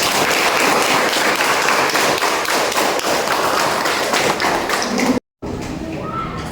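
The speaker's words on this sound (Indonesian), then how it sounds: "Tepuk tangan buat beliau." An audience claps for an honoured guest at an Indonesian teacher-training event, a dense, sustained patter of hands that cuts off abruptly near the end before a quieter tail.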